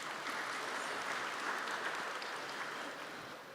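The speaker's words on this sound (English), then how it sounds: "Maybe a round of applause will be in order." An audience applauds at a science workshop during a national science week in Eswatini, with dense, steady clapping that fills the whole stretch and tapers slightly at the end.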